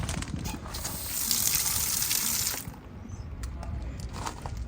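Water gushes from an outdoor spigot at a newly built house, a loud, steady hissing rush for a couple of seconds that then eases into lighter splashing and trickling.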